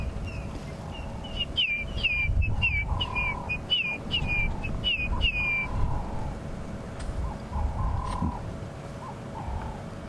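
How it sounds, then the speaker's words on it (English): A grey hornbill gives a run of clear, rising whistled notes repeated in a steady series, with lower hooting calls between, over a soft background of wind and distant bush sounds. "That whistling sound is called a grey hornbill."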